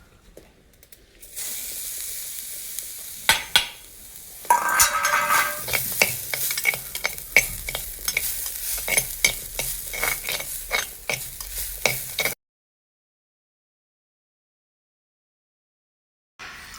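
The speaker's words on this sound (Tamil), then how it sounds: "அதுக்காக வேண்டி நான் மண்சட்டியில் வறுக்க போகிறேன்." Grated coconut roasting in a clay pot, a dry hiss with steady scraping strokes from about four seconds on, each stroke a soft crisp rasp, close and moderately loud, then stopping abruptly into silence.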